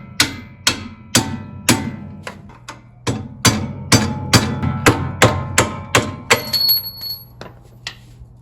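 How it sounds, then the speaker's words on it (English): Giant sledgehammer striking a bolt on a Chevrolet Malibu MAXX suspension being fitted with SAAB coilovers, a string of about sixteen loud ringing metallic clangs at a steady pace, close up, with no talk. "we're gonna try and get this bolt out here with the giant sledgehammer"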